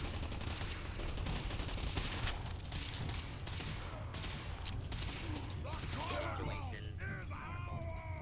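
Sustained automated turret gunfire in the video game Fallout 4, a dense continuous fusillade of shots running throughout, with mechanical chatter and whirring tones rising near the end.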